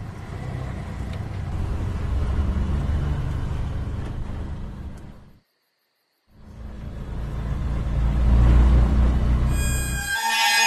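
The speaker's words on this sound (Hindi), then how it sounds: "अभी गाड़ी चला रहे हैं" An auto-rickshaw driven through a night road gives a low, rumbling engine drone that cuts out completely for about a second midway. It then returns louder and fades into a brief high, tonal burst at the end.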